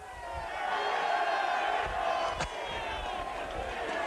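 Rugby league stadium crowd at an Oldham versus Hull match, a loud sustained roar of jeering and shouting from the stands, with a commentator talking over it.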